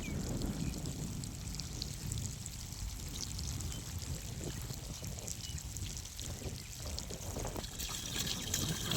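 Steady trickling and gurgling water runs from a drip irrigation pipe without a break, close by, with a continuous soft wash throughout.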